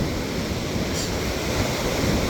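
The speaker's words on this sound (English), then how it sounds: "got some real nice waves coming in right here now" Ocean surf rolls onto a beach on a Wednesday morning, a loud, continuous broadband wash of breaking waves with heavy wind rumble across the microphone and no voices.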